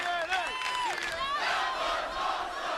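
A loud pro wrestling arena crowd roars and cheers continuously after a table spot in a multi-man tag match, with shouting voices rising and falling in a dense, sustained wall of noise.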